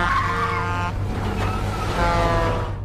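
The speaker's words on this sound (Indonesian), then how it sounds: "Hampir saja mobil mereka terseruduk truk besar itu." A car nearly struck by a big truck in the film Final Destination 2, heard as a loud, steady roar of engines and road noise with a brief tire-skid squeal, continuous throughout.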